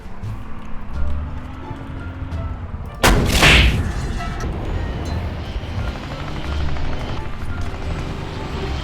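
A single heavy tank cannon blast in the XM8 vehicle game, a sharp loud boom at mid-clip trailing into rumble, set against a steady engine drone and game ambience.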